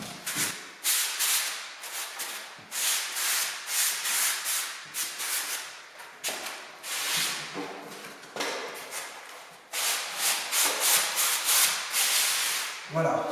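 Sandpaper is rubbed by hand along a plasterboard wall corner in repeated rhythmic back-and-forth strokes, a close scratchy hiss in bursts separated by short pauses.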